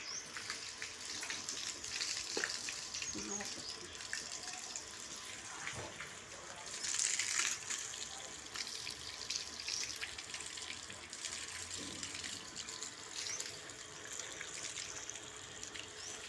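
Water pours and splashes steadily while a dog is bathed, a continuous running-tap wash with brief louder surges, heard alongside a person speaking softly to the dog.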